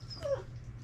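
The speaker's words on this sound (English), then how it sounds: "Yes, see, doggy." A dog gives one short, thin whimper over a steady low room hum. It is brief and moderately close, with no talking.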